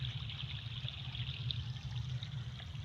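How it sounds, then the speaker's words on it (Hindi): Water from a submersible pump running and pouring steadily in cold weather, a constant hissing splash with a low rumbling hum underneath, close and unbroken. "ये देखो मेरे समरसीबल पंप का पानी चलता भी है।"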